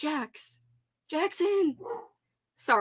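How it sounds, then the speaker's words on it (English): A pet dog barks indoors in several sharp, close bursts, with a person speaking between and over the barks. "Excuse the barking."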